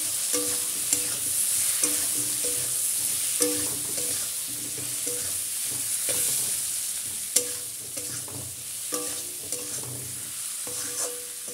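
Spices with cumin powder and Kashmiri red chili powder being sautéed in a pan for katla fish curry, giving a bright continuous sizzle with repeated stirring scrapes and clinks, close and without speech.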